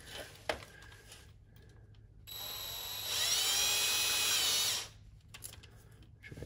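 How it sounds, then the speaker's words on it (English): A power drill with a right-angle attachment drills out the pilot of a 1970s heater, whirring in a single burst of about two and a half seconds that climbs in pitch and intensity before stopping, close and alone. "I'm just gonna drill this, I'm gonna drill the pilot out."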